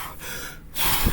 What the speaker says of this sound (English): Then I do the Wim Hof breathing technique